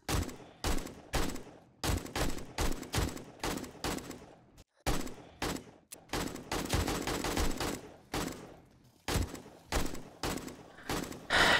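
Repeated gunfire aimed at a feral zombie in the survival game 7 Days to Die: loud, close shots in rapid bursts with brief pauses between volleys across the clip.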